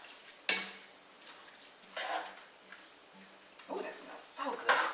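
Red cabbage and black bean soup stirred in a pot, a few scraping, clinking spoon strokes against the pot in bursts over a low steady hum, with some clatter at the start and end.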